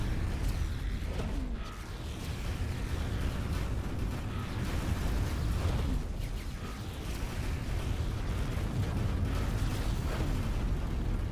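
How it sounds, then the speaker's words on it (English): Flak turrets in X4 Foundations pound away at a Xenon ship, producing a steady dense roar of rumbling explosions and mechanical firing that holds at a constant loud level without any voices. "The flak turrets completely ripped apart that Xenon."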